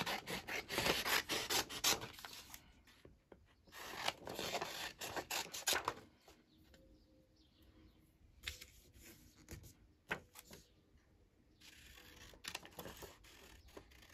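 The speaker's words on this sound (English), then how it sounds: "So let's just cut this out." Scissors snip through paper while a journaling card is cut out, giving short crisp cutting and rustling strokes in bursts, quiet and close, with soft pauses between.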